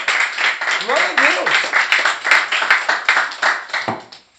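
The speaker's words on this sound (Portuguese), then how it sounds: "Você pode aplaudir Jesus?" Church congregation clapping in a quick, steady rhythm, sharp claps repeating for several seconds before fading out, with a voice briefly calling out over the top.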